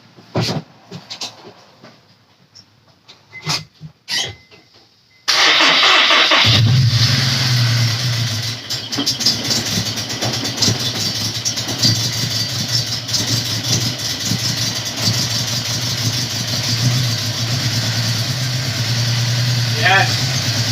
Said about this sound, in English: And I'm ready to go start the car.